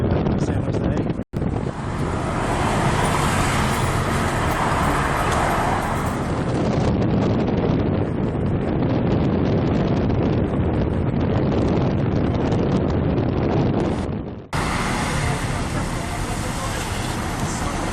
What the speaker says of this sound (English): So we're on the freeway back to San Jose.